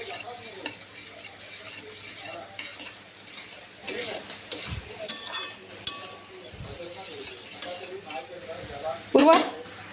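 Dry rice being roasted in a pan while a spatula stirs and scrapes it, with a steady gritty rustle and occasional metallic clinks and knocks from close by, with no speech.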